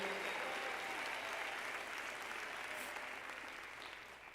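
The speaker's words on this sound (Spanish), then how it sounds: "Denle un aplauso de alabanza al Dios verdadero" Congregation applauding in praise of God during a Spanish-language church talk by a former satanist, a broad, sustained wash of clapping from a large crowd that gradually thins and softens toward the end.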